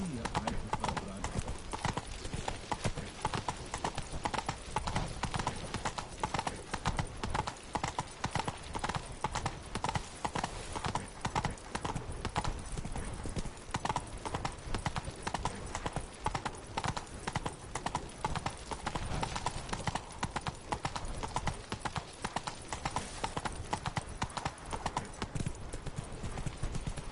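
Hooves of Roach, a horse in the video game The Witcher 3, clip-clopping in a quick unbroken rhythm for the whole stretch, close and even in loudness, with a voice speaking over the steady trotting.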